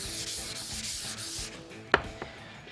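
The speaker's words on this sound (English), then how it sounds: "So I'm sanding the domino base using 150 grit sandpaper." Melamine domino base being sanded by hand with 150 grit sandpaper, a steady soft scratchy rubbing that runs throughout at close range, with one sharp tap partway through.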